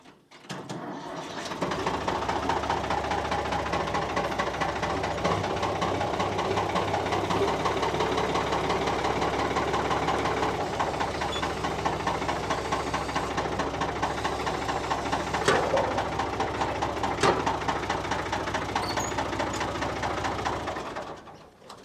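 Old rusty Austin car engine running continuously with a loud, rhythmic mechanical knocking and clatter, close and steady for about twenty seconds before cutting off.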